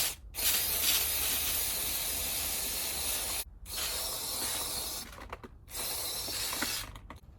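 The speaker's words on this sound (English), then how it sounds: "we're gonna go ahead and take some cleaner and just spray it off real quick." Cleaner sprayed onto a Toyota Tacoma engine part in several bursts, loud close hissing sprays separated by short silent pauses, with the last bursts shorter and choppier.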